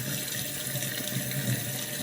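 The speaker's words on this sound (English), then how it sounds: "in here the tank level is filling up" Water tank filling up, a steady rushing hiss of water pouring in, constant and fairly close with no talk.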